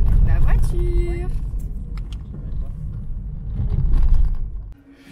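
Interior rumble of a car being driven on the road in Italy, low engine and road noise under a voice talking, with small clinks, before the sound drops off sharply near the end.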